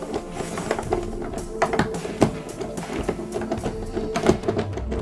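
Small screws being driven by hand into the plastic case of an Atari 2600 console, giving close, dense clicking and ratcheting scrapes over a low hum throughout.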